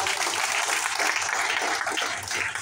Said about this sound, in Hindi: तो टीम फोर्स के लिए एक बार जोरदार तालियां